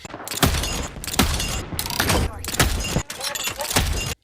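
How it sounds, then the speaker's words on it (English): A prosthetic arm fires a burst of grenades in a video game, with a series of loud, close, punchy blasts and clattering mechanical impacts coming in quick bursts, broken by short gaps. "He's got this ability called Knuckle Cluster, where he's got this prosthetic arm that literally launches grenades off."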